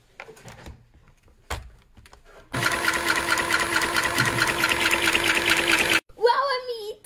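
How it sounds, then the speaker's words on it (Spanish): A small toy sewing machine is switched on and runs with a steady, loud mechanical whirring for several seconds, then stops abruptly. Someone speaks briefly before and after. "Vamos a encender la máquina."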